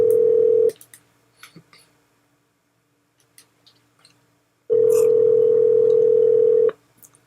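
A telephone rings back on a call, a steady loud tone lasting under a second, then a pause with faint clicks, then a second tone about two seconds long.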